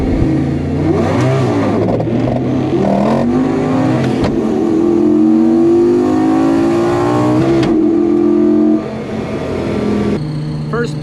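Lamborghini V10 engine swapped into a Volvo 245, running steadily with rising revs as the car pulls away, loud and close with a voice talking over it.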